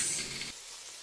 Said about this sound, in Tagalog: next naman po natin na ipiprito is itong patatas.